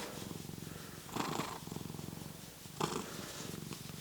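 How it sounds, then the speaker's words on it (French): A grey cat just outside a workshop window gives two short, drawn-out meows over a steady purring rumble, heard close and fairly quiet. "Et donc il vient miauler"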